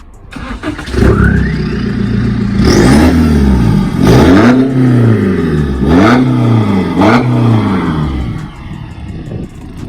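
A Nissan GT-R engine cranks and fires, then is revved hard several times in quick succession. Each sharp rise falls back to a loud idle, heard up close with nothing else over it.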